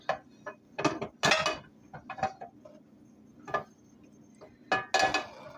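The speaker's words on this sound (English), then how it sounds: "It's just buttering the pan so nothing sticks to it." A utensil scraping and clinking against a pan while buttering it in the Cooking Mama game, irregular bursts of metallic clatter separated by short quiet gaps.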